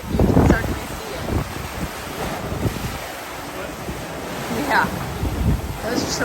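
Strong wind buffets the microphone on a cruise ship deck, with the wash of waves beneath; gusts swell and fade in a constant roar, and a voice speaks faintly underneath at moments.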